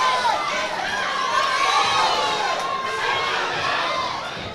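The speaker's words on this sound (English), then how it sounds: "lot of support coming from the crowd," A boxing crowd at an amateur club's anniversary home show cheers and shouts in support, a steady dense roar of many voices with high shrieks throughout.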